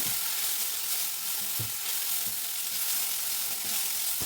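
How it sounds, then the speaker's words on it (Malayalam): Turmeric powder is stirred into sautéed onions in a hot pan, producing a continuous close sizzle broken by several soft thuds and scrapes of the spoon. "മഞ്ഞൾപ്പൊടി എല്ലായിടത്തും നന്നായിട്ടൊന്ന് ഇളക്കി ചേർത്തു."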